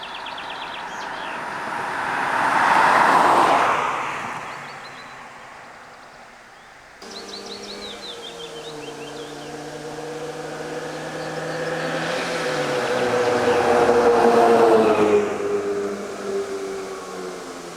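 Off-road tires roll on pavement inside a moving car, giving a broad, steady road roar with a tonal whine that rises and falls in two separate passes as the speed changes, with no voices.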